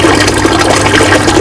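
An aquaponics bell siphon in a gutter grow bed begins draining, giving a loud, steady rush and gurgle of water, like a toilet flush, close up and continuous without talk.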